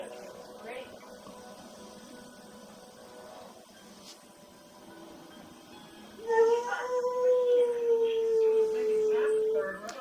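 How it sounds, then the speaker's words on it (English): A dog lets out a long, wavering howl partway through, rising over quiet background talk and lingering for several seconds. "there's the dog making her second appearance on my commentaries."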